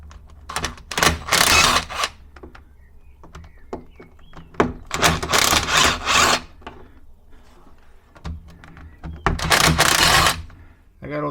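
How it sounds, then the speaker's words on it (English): Ratcheting wrench removing bolts from the rear differential housing of a Fiat 1500, bursts of rapid clicking and raspy metal turning in several runs, close and loud. "Next thing I gotta do is to remove those bolts around it to remove the rear differential out of the casing or the housing"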